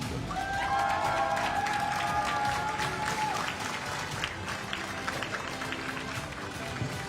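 Applause from the spectators for Poland's fourth-placed junior men's 10m air pistol team at a European Championship final in Wroclaw, steady crowd clapping with a few cheers throughout, with a brief tonal sound early on.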